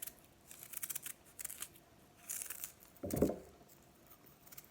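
Jicama skin being peeled by hand, a few soft scraping and crinkling strokes, faint and close, with one louder rasp near the end and no talk.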